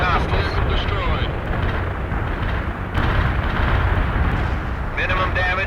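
Artillery shell barrage landing in the strategy game World in Conflict, a dense continuous rumble of blasts and debris, loud and sustained, with radio voices talking over it at the start and end.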